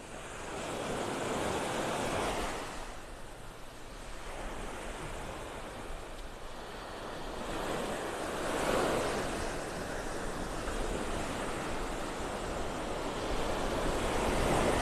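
Ocean waves breaking on the outer edge of a sandbar as the tide comes in on a beach in North Naples, Florida: a continuous wash of surf that swells and recedes in slow surges, with wind noise and no talking.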